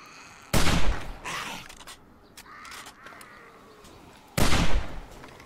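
Two loud, sharp rifle shots in the survival game 7 Days to Die ring out about four seconds apart, each with a burst of echo. Quieter rustling and movement sit between them.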